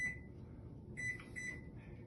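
A microwave oven runs while popping popcorn in a silicone popper, giving a steady low hum with a faint high tonal whine that comes and goes, and no voices.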